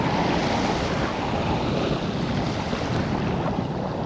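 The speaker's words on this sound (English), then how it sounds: "Ooh, it is windy" Strong wind roars as a steady, dense broadband rush buffeting the microphone, continuous and loud throughout with no voices.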